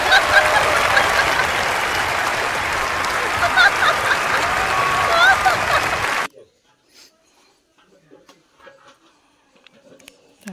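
A crowd claps loudly and steadily to welcome someone at a ring engagement ceremony, then the clapping stops abruptly, leaving a near-silent room with only scattered faint sounds.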